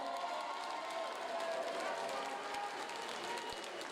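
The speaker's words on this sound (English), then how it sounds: "Please a round of applause for this guy." Crowd applause and cheering from an audience welcoming a Cage Warriors featherweight champion at a fight event, a steady broadband wash of clapping sustained at moderate level throughout with faint voices mixed in.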